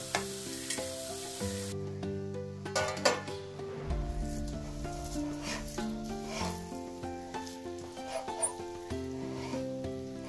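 Chopped dates, raisins and mixed dry fruits being stirred in a pan for healthy dink dry fruit modak, giving a steady soft scraping and rustling that runs throughout, close by, under continuous background music.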